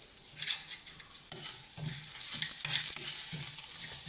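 Coconut, coriander and curry leaves roast in a pan for hotel-style tiffin sambar, with a soft sizzle under repeated rhythmic scraping strokes of a spoon stirring up close.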